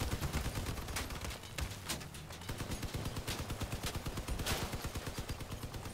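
Vehicle-mounted weapons in the combat game Crossout fire in rapid, continuous bursts, a dense clattering stream of shots with sharper louder cracks mixed in, unbroken across the whole stretch.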